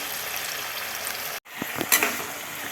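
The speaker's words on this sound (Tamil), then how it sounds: "நம்ம ஒவ்வொன்றா இப்படி போட்டோம்னா போட்டு நம்ம வறுத்து நல்லா ஃப்ரை பண்ணி எடுத்து வச்சிடலாம்" Chicken pieces fry in hot oil in a pan, a steady broadband sizzle that cuts out briefly, then returns with a few soft clinks and stirring knocks as pieces are added.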